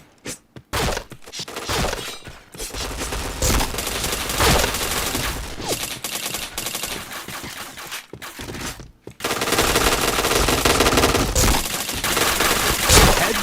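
Rapid automatic gunfire and shattering impacts from the online shooter game Point Blank, loud and nearly continuous with short gaps, sustained bursts dominating throughout.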